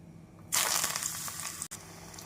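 Chickpea vadas dropped into hot oil in a kadai, setting off a sudden loud, hissing sizzle that carries on steadily and close, with no talking.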